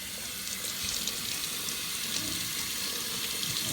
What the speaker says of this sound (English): I'm gonna just go ahead and wash this off real quick